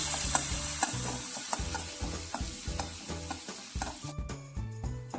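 Washed raisins fry in a pan for rava laddu, a steady sizzle with repeated stirring scrapes and taps, heard close under rhythmic background music that grows more prominent toward the end.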